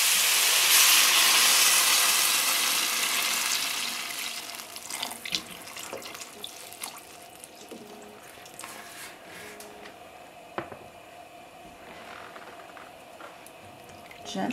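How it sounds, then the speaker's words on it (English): Vegetable broth pours into a pot of sauteing squash and onions, a loud rushing splash at first that fades into softer sizzling and simmering, with occasional clinks and light kitchen knocks. "I'm going to add our vegetable broth so that it'll stop our sauteing and start cooking our squash"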